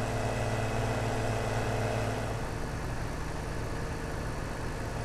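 A tractor engine in Farming Simulator 17 drones steadily under continuous broadband noise, a constant mid-low rumble with no break.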